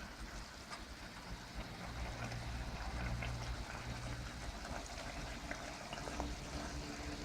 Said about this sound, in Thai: แล้วก็เราจะเทน้ำซุปใส่ลงไปนะครับ